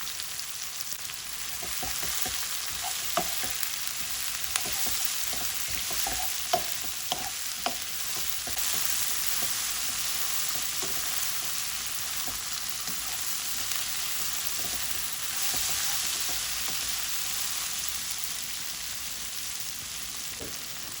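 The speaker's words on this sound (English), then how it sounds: "Continue to stir fry all the fresh vegetable" Onion and red pepper stir-frying for chicken noodles, a steady hissing sizzle with scattered clicks and scrapes of stirring throughout, close and fairly even, no voices.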